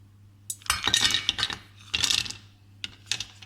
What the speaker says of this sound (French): on va tout de suite mettre le chocolat dans la casserole